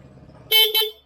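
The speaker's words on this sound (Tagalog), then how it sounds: "So yan yung stock horn niya." Stock horn on a Yamaha NMAX V2 scooter, two short, close, bright beeps in quick succession after a faint low hum, with no voices.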